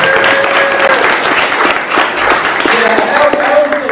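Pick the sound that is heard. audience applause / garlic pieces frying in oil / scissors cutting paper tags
audience applause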